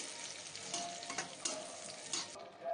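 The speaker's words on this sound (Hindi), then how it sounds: "घी गरम हो गया, अब इसमें ढेर सारा ड्राई फ्रूट्स डाल देते हैं।" Dry fruits sizzle in hot ghee for carrot halwa, a steady close frying hiss with a few stirring scrapes and soft clinks rising over it.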